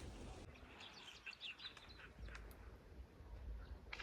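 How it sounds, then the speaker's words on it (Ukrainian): Birds sing outdoors on a sunny day during a dog walk, a few faint, high chirps and short trills rising over soft open-air background noise. "пташки співають"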